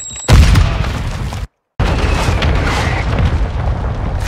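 Semtex grenade blowing up in Modern Warfare 2, a loud, close boom followed by a sudden dropout and then sustained rumbling battle noise.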